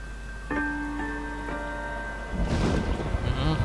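Night thunderstorm in the L.A. Noire game: a low rumble of thunder rolls in after steady tones and ringing chimes, then grows louder with crackling rain-like noise toward the end.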